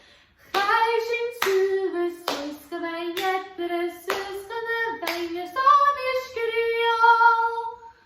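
A group claps a rhythmic pattern while singing the Gaelic song Beinn Eadarra. Sharp, evenly spaced claps land on the beat under a clear sung melody that runs throughout.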